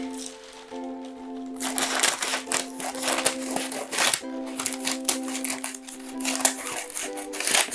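Scissors cutting a paper shadow-puppet screen along a line, a run of crisp rhythmic snips and crinkling paper, close, with a short pause before cutting resumes, over a faint background hum.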